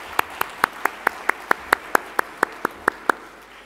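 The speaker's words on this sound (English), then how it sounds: "Let's give him a clap, too." At a charity gala ball at the Hyatt Regency in Sydney, the audience claps in a steady, evenly spaced rhythm of about a dozen crisp claps, fairly close and clear over quiet room tone.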